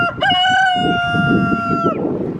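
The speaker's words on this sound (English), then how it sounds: "we've got a little rooster friend here." A small backyard homestead rooster at a chicken coop lets out one loud, close crow that holds steady for over a second before trailing off, with soft background clucking and murmuring beneath it.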